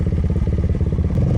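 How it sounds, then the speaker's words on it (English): A motorcycle engine throbs steadily while riding, a close, rhythmic low rumble with no wind noise. "You can hear the motorcycle, but just less wind noise altogether."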